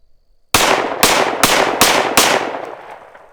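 Five Norma frangible ammunition rounds fire in quick succession at close range, each a loud sharp crack with a ringing tail. The shots come in a slightly uneven rhythm over about two seconds, then a decaying echo follows.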